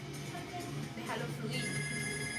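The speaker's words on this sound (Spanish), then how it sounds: "¡Ah, el teléfono! ¡No! ¡No! No, no conteste." An electronic telephone ringtone sounds in a video game, with steady tonal rings over a game soundtrack, starting strongly about midway and continuing under a man's speech.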